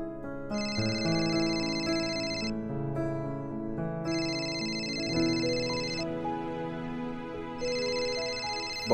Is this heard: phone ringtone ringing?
yes